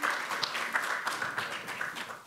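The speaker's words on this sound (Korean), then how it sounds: "뜨거운 박수 보내주시기 바라겠습니다" An audience at a Democratic Party floor leader election in Korea gives warm applause, a dense steady clapping that lasts throughout, with a faint voice beneath.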